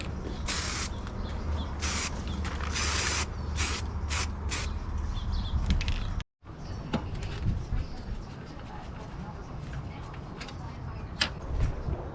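Trim black aerosol paint sprayed in light coats onto a Honda CRX part: a series of short hissing bursts, close and loud, followed by a pause and a few more sporadic sprays over steady background noise.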